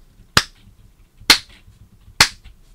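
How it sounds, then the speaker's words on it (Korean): Three sharp, isolated hand claps spaced almost evenly about a second apart, marking a backbeat on beats two and four, close and dry with quiet between them. "2, 4에서만 친다 그래서 뒤에만 박수를 친다 그래서 백비트라고도 부르고요"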